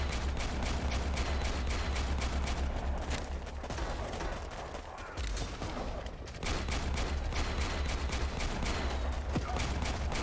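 Rapid continuous machine gun fire from units in the strategy game Warpips, dense rattling bursts layered with other gunfire, briefly thinning midway before resuming at full intensity.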